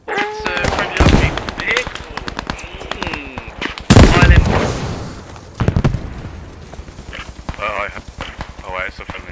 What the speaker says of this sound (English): Oh, it's a friendly tank shooting them on.